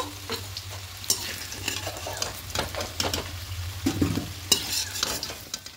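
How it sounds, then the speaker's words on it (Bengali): Potato pieces fry in hot oil for a milk chicken dish, with a continuous crackling sizzle and repeated scraping stirs of a utensil against the pan, close up, with a low steady hum underneath and no voices. "এবার হালকা লাল লাল করে একটু ভেজে নেব।"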